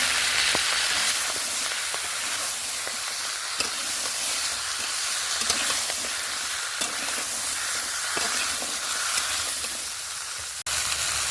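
Pui shak greens and cut potatoes are frying and stirred in oil left over from frying fish, a steady close sizzle with soft scraping stirs throughout and no talking.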